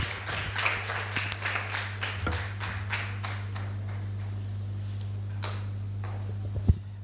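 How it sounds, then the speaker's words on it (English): Thin, scattered clapping from a conference audience after a gender equality presentation, brisk at first and then thinning to a few isolated claps over a steady electrical hum. "Another round of applause for Prof."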